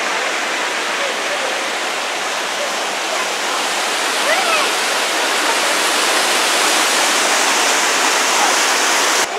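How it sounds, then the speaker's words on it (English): Waterfall found along a dirt trail, a loud, steady broadband rush of falling water filling the whole stretch without pause. "On a treasure hunt to find a waterfall."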